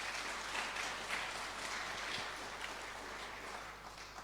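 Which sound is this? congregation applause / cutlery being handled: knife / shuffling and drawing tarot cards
congregation applause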